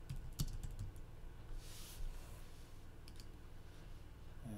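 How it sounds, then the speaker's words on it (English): Keys tapped on a computer keyboard while entering a stock ticker into a finance website, a quiet run of clicks with a few sharper strokes early on and a soft steady room hum underneath. "It helps if I can type."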